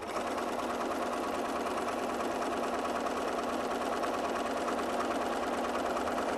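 A sewing machine stitches in a fast, even mechanical whir that runs continuously at steady volume for several seconds, with no talking over it.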